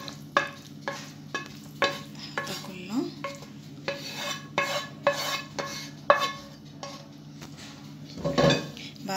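Minced meat cooked with spinach is spread over a baking tray for a mashed potato bake, heard as a rhythmic run of utensil clinks and scrapes against the metal, close and fairly crisp.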